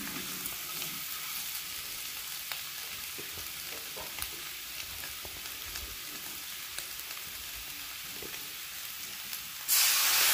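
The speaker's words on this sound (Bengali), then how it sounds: "এবার আমি দিয়ে দিচ্ছি পরিমাণ মতন গরম জল।" Continuous loud sizzling and hissing as hot water hits sautéed egg curry masala with new potatoes, a dense steady crackle throughout, ending in a sudden bright burst of hiss.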